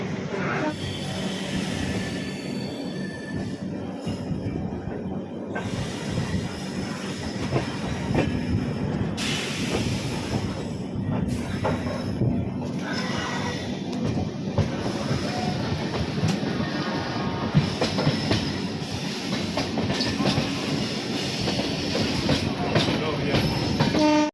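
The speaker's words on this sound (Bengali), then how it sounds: "2 মিনিটের মধ্যে কিন্তু ট্রেন ছেড়ে দিল আসানসোল জংশন থেকে" The Howrah Rajdhani Express runs on rails after leaving Asansol Junction, heard from inside as a loud continuous rumble with rhythmic wheel clatter and occasional squeals.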